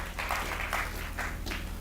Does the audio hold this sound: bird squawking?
no